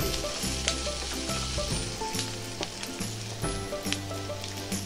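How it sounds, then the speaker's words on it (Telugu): Onions fry in oil over a medium flame for a spicy chicken curry, a continuous crackling sizzle with scattered pops and faint clinks of stirring. "మూత పెట్టి ఒక 4 నిమిషాలు మీడియం ఫ్లేమ్లో ఫ్రై చేసుకోవాలి"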